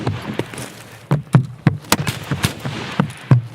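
Rapid bursts of gunfire in the Shoreline map of a shooter game, sharp cracks scattered irregularly over about three seconds, some close and loud, others fainter, with no talking.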